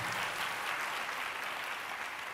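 A church congregation clapping together, a dense continuous patter of many hands, steady and somewhat distant, with no voices over it.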